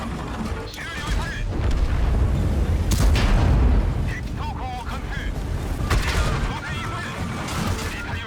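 Booming tank gun fire and heavy mechanical rumble in World of Tanks, several deep blasts over a constant low roar, with faint voices in the mix.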